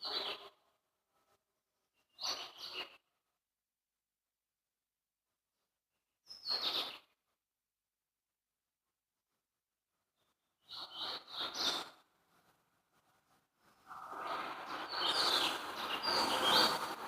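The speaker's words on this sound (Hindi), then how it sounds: "पक्षियों की आवाज को सुने।" Birds chirp in several short bursts separated by silence, then a denser, louder stretch of overlapping calls near the end; moderately close, with no talk.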